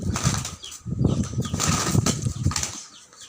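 Two hens fighting in a village yard at feeding time, wings flapping in rapid, close, noisy bursts that churn on without pause for a few seconds.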